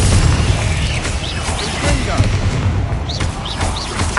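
Repeated Confringo blasting-spell explosions in Hogwarts Legacy, dense booming bursts layered over busy game effects, with a voice talking throughout.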